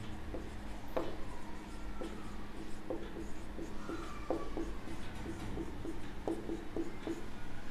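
A pen scratches steadily across paper while a maths induction proof is written out for a Class 11 lesson, with soft repeated strokes and taps over a constant low background hum, close and quiet.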